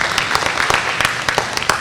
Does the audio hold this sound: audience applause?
yes